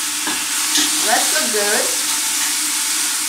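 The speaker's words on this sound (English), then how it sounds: "You get the chicken first and you get it like all blondy and all crispy." Chicken pieces with skin frying in a pan until golden and crispy, a steady close sizzle with stirring throughout, and a short spoken remark partway through.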